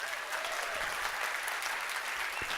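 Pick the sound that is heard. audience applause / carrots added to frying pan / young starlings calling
audience applause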